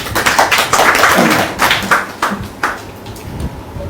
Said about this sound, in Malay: Silakan kita beri tepukan kepada Datuk Dr. Marzuki